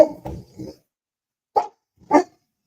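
A dog named Loki barks close by, with a quick cluster of sharp barks at the start, then a pause and two separate single barks, with no talk.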